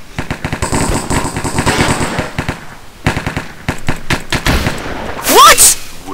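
Rapid bursts of loud automatic gunfire crackle from an online shooter game, a fast staccato stream with short pauses, ending in a bright burst, while a player talks over it.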